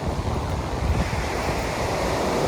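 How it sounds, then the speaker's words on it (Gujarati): Strong wind and surf roar at Devka beach in Daman, a continuous loud rumble with heavy wind buffeting on the microphone and no voices. "બહુ જોરદાર પવન છે"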